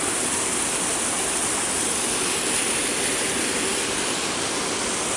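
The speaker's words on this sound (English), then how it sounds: "And this is the creek we're crossing." Steady, broadband rush of creek water flowing beneath a trail crossing, constant and fairly loud throughout with no talk over it.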